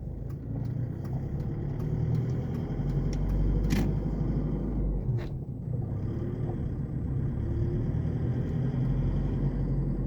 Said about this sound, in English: you can hear that whooshing sound